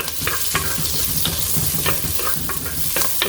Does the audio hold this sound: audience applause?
no